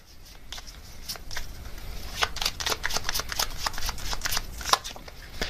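Tarot cards shuffled and drawn by hand at a reading, a close run of soft riffling snaps and papery flicks, with faint talk in the background.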